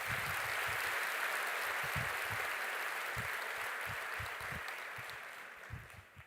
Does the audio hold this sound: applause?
yes